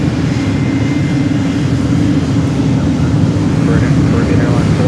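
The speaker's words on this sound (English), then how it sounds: "Look at these Gulfstreams." Gulfstream business jets at Fort Lauderdale airport produce a steady, loud jet engine roar that holds throughout under someone talking.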